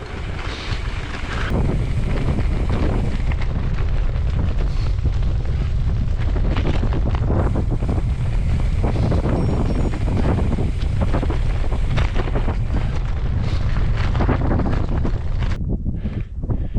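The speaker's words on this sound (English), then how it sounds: "Listen, just the wind." Strong wind roars and buffets the microphone continuously on a cycle ride through Fineshade woods, a loud rushing gust that fills the whole clip with no talking.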